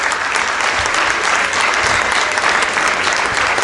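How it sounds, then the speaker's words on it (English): Sustained audience applause at a shipboard magic show while a volunteer makes her way up to the stage, a thick, even roar of clapping from a large crowd, loud and unbroken. "keep that applause going until Megan makes her way to the stage"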